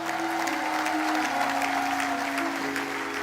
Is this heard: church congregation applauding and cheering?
yes